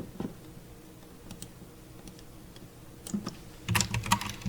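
Typing on a computer keyboard while writing a simple program: scattered soft key clicks, then a denser, louder burst of keystrokes near the end, close and with no talk.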